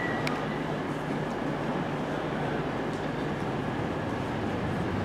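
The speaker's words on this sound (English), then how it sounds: "that one there is the Mansfield Woodhouse train" A Mansfield Woodhouse train rumbles at Nottingham station, a steady broad hum of engine and platform ambience running throughout without clear voices.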